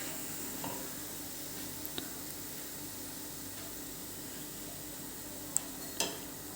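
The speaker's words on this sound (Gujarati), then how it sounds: "આ રીતે આપણે બીજા ભજીયા પણ તળી લઈએ" Bhajiya fritters fry in oil with a faint, steady sizzle and occasional soft clinks of a utensil, quiet throughout with no talk.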